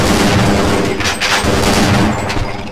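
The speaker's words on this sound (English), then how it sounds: "The shotgun's effective as well." Shotgun fire in the video game Half-Life, a dense run of loud, overlapping blasts and booming game sounds packed tightly together with no pause.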